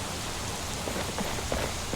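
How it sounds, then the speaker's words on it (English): Rain falls steadily in a heavily modded Skyrim game, a dense continuous patter with faint distant thunder, heard alone at moderate level. "And we're back to raining"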